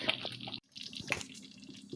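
Jamaican cornmeal porridge cooking on the stove gives scattered small splashes and bubbly pops, faint and irregular, with a short silent gap partway through.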